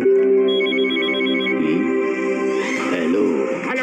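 A telephone rings with a steady electronic ringtone, bright repeating tones for several seconds with a shifting tonal pattern near the end, heard alone without talk.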